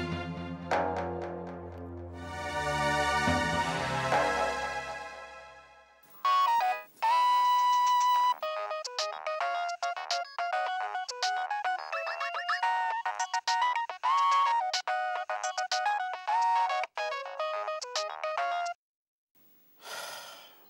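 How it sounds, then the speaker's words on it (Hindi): Phone rings repeatedly during an outgoing call, a melodic electronic ringtone that plays in bursts with short gaps, clear and fairly loud, preceded by a sustained musical swell. "जरा केके साहब को फोन तो लगाना"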